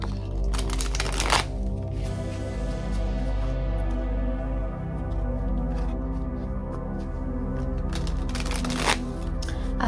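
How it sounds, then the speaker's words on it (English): A tarot card deck shuffled by hand, with repeated riffling bursts at the start and end and softer continuous card sliding in between, close and clear with no talking. "I am going to start by just taking the tarot deck and shuffling it to cleanse it"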